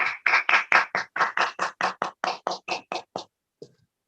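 Sharp, evenly spaced claps welcome a guest at a 19th anniversary celebration, about fourteen in a steady rhythm that slows slightly and stops, with a faint knock after the clapping ends.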